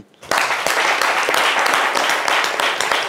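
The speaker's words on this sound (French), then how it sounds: "23 ans, ça s'applaudit." Loud audience applause bursting in after a brief quiet moment, a dense, sustained wave of many hands clapping close by through to the end.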